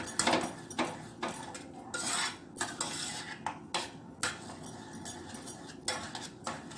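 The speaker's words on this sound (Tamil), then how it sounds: "இப்போ இந்த வெல்லத்தையும் இதில் விட்டுட்டு நம்ம நல்லா கரைச்சி எடுத்துக்கலாம்" A spoon stirs jaggery into moong dal payasam in a pot, producing quick, rhythmic metallic scrapes and clinks up close.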